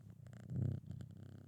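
A kitten purring right against a microphone, a close, rumbling, rhythmic purr that swells in the middle and carries on steadily with soft rustling.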